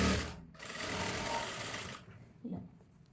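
Sewing machine stitching kids jumpsuit fabric at the leg: a close, steady mechanical whir running in two bursts, with a short pause between and a softer knock at the end.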